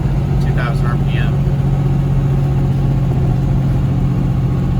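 A truck's diesel engine drones steadily and loudly from the cab while driving through southern Ohio, as a low rumbling tone under the Jake brake. A voice briefly speaks over it.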